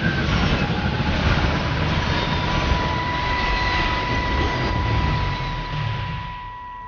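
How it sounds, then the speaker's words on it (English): Jet planes roar overhead in the video game Everybody's Gone to the Rapture, a loud, continuous rumbling drone with a steady whine that slowly fades toward the end. "I can hear the planes."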